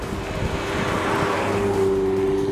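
An Audi TT RS engine drones steadily on a small race track, a loud, sustained mechanical roar that holds a rising tone near by, with no talk.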